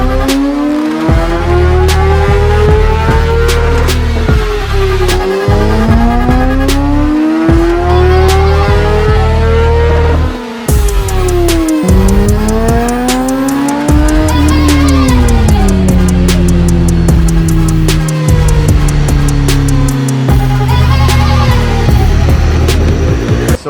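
A 2014 BMW HP4 motorcycle screams through repeated dyno pulls, engine pitch sweeping up through the gears over and over, loud, close and continuous with no talking.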